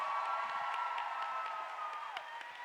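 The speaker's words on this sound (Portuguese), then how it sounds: "Vamos dar uma salva de palmas, senhoras e senhores" An audience applauds a presenter at a live talk, with steady, dense clapping that stays fairly quiet and even throughout, and a few sharper claps stand out.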